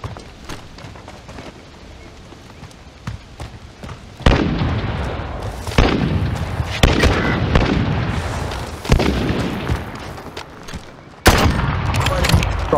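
Loud gunshots crack and boom in bursts during a three-on-three sniper gunfight, several sharp reports spaced a second or two apart over a steady noisy background.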